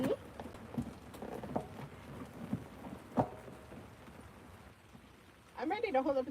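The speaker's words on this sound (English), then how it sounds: "you're just in the forest in the rain with me" Steady rain patters through a forest, a soft continuous texture with occasional louder drips, and a voice briefly rises near the end.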